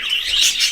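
A budgerigar gives a quick, bright burst of high-pitched chirps and warbles up close, loud and alone.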